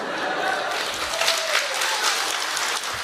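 Live applause from a crosstalk comedy show audience, a short burst of scattered clapping rising and fading, with a performer's voice faintly over it.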